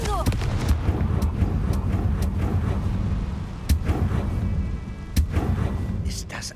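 Confringo blasting spell cast repeatedly in Hogwarts Legacy, several loud percussive bursts at irregular intervals over rumbling game combat noise.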